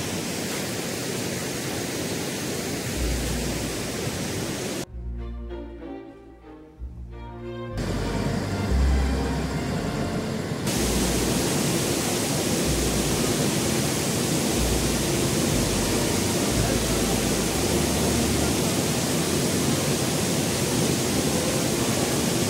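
Bhivtas waterfall in Surgana rushing forcefully, a loud continuous roar of falling water, briefly interrupted by a short dropout before the steady rush resumes.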